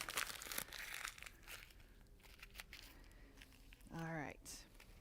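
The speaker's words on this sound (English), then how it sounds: "I'd like you to crumple it up into a ball." Sheets of paper crumpled by hand into balls, a busy crinkling and crackling rustle at close range, with voices speaking over it.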